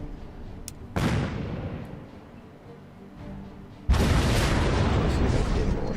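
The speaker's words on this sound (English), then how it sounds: "Just trying to get the shots out using my salvo button there." Naval ship salvo gunfire in the video game Battle Fleet 2: a sharp booming blast followed by a long rumbling tail, then a second, louder broadband burst that keeps roaring, heard close and with no talk over it.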